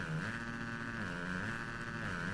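A motocross bike engine in a video game drones at steady high revs, the pitch wavering slightly up and down, fairly quiet and continuous with no talking.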